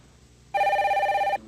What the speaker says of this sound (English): There's the phone. I'll get it.